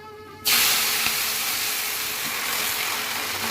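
Leafy greens dropped into hot oil with white sesame seeds, a sudden loud sizzle that bursts in and then holds as a steady hiss, close up with no voices.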